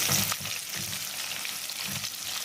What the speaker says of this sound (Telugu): ఈ ఉల్లిపాయ ముక్కల్ని రంగు మారేంత వరకు వేపుకుందాం